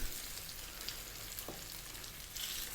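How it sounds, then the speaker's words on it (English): Fish fry in oil on medium heat, giving a soft, steady sizzle at low level with a brief louder crackle midway and a small swell near the end. "We're on a medium heat and we're going to fry these"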